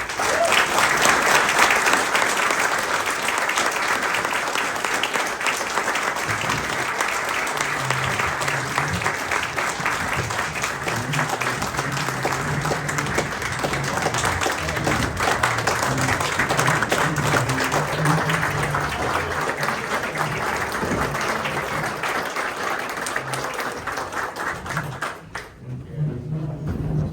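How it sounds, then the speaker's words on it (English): An audience at a retirement farewell gives long, loud, sustained applause, dense clapping that lasts over twenty seconds before it tapers, with a voice speaking faintly beneath it. "could we give these guys a big applause?"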